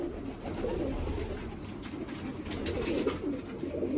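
Pigeons coo softly and repeatedly in a low murmur, close by, with light rustling and faint higher chirps mixed in.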